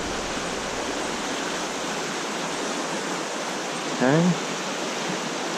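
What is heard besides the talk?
flowing stream water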